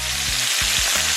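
Jamaican escovitch fish fries in a pot of hot oil, giving a short burst of dense, close sizzling with low bumping knocks underneath.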